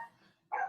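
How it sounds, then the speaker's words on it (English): A dog gives a single short bark in the background during a home interview, faint and brief, following a quieter whimpering tone. "Oh, my dog's barking."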